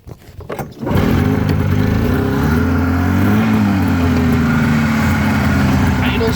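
A 1984 Polaris Indy 400 snowmobile with a fan-cooled engine starts after a brief rustle and then idles steadily and loudly up close, a continuous rough drone with a slight dip and recovery in pitch.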